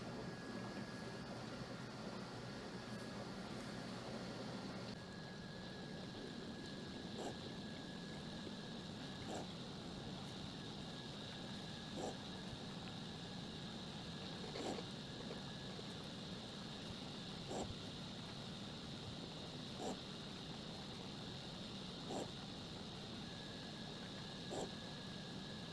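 A Kjeldahl steam distillation unit runs while collecting ammonia into a receiving flask, giving a steady mechanical hum and hiss with faint, evenly spaced ticks every couple of seconds throughout.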